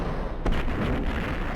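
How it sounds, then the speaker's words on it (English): A grenade explosion in the Max Payne video game, a single loud boom with a sharp onset followed by a brief rumbling decay. "every time I took a random grenade to the face"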